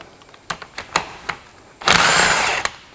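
Power tool backing 13 mm bolts out of an NV4500 transmission case: a few short ratcheting clicks and brief whirs, then one loud sustained spin lasting under a second, followed by a final quick burst, all close and with no talk.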